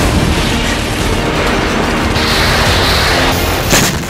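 A loud blast from a rocket or air strike on a military base near the Golan Heights in Syria, heard as a dense, sustained roar of broadband noise lasting several seconds with a sharper burst near the end.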